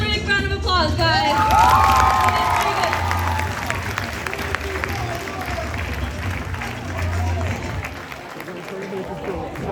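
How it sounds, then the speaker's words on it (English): Audience at a high school Mr. GQ pageant cheers, whoops and applauds loudly after a performance, a dense crowd roar with shouts and high yells that slowly settles over several seconds. "let's give him one big round of applause, guys."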